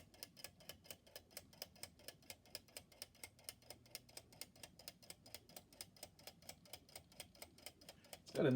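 An Academy Da Vinci G.E.T. clock kit ticks in a quiet room, a steady, evenly spaced series of sharp mechanical clicks at close range, ending with a short louder knock.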